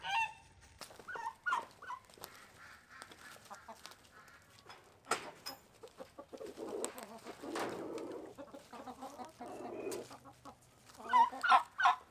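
Farm birds call in short scattered bursts, with clucks, squawks and flapping from geese trying to fly, heard alongside turkeys at a moderate distance against a quiet background.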